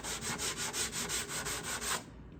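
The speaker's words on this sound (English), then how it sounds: "I've already sanded the binding flush with the cedar top" A luthier sands a cedar guitar top by hand with 220 grit paper on a plexiglass block, following the grain in steady back-and-forth strokes, about ten even rasping passes close up, then a quiet pause.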